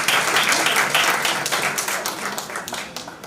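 A room audience at a high school debating competition claps in a loud, dense burst of applause that starts at full strength and slowly thins toward the end.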